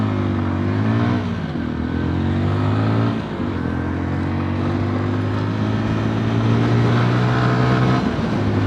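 A 2022 MASH X-ride 125cc motorcycle engine, new and revved to about 9,000 rpm, its pitch rising and holding high, loud and close, with one brief dip midway.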